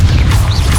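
A Confringo blasting spell goes off in Hogwarts Legacy during a duel, a loud heavy crashing boom with a rumbling low body and a whooshing magical tail, all in under a second.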